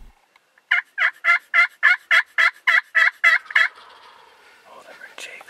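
Wild turkeys in an open field during spring turkey season let out a single rapid gobble of about a dozen even pulses, loud and fairly near, trailing into quieter calls afterward with no one talking.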